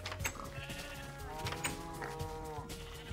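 Several sheep bleat in the Minecraft video game, overlapping wavering calls repeating throughout, with lower cow-like moos mixed in beneath, fairly quiet and without speech.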